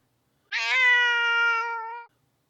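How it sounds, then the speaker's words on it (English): A pet cat lets out a single long, loud yowl lasting about a second and a half, close to the listener and heard on its own with no other sound. "I gotta give my cat a fucking treat, dude. He's yowling and shit."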